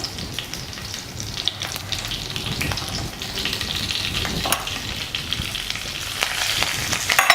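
Dried red chillies fry in hot oil for a sambar tempering, giving a steady crackling sizzle with scattered pops and occasional stirring scrapes, close and continuous without talk.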